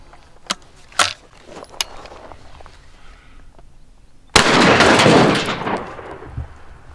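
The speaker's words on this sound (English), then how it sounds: "Let's shoot a buckshot." A Rock Island single-shot shotgun fires a buckshot load outdoors with one loud, close boom that rolls off over a couple of seconds, after a few sharp knocks and handling clicks.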